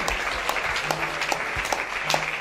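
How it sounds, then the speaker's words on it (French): A church congregation claps during a deliverance service, a brief burst of moderately loud, scattered applause. "Put your hands together. Acclamez pour le Seigneur."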